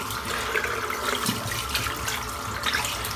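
Tap water runs steadily while soap is rinsed out of a silvertip shaving brush, a continuous splashing stream with no talk.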